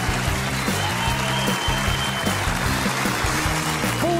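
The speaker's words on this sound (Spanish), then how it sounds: "el primer cuentachistes de la noche lo recibimos con un fuerte aplauso." Crowd applause greets a comedian taking the stage at a live stand-up comedy show, a dense, steady wash of clapping with a low musical bed underneath, sustained and fairly loud.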